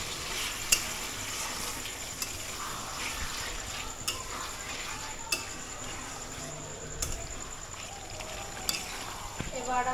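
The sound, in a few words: stirring chicken liver curry in a pan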